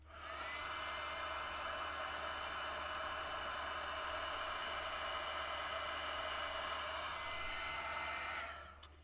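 A heat tool blows steadily while melting gold embossing powder: a close, constant whooshing hiss that runs for several seconds and then cuts off near the end, with no talking.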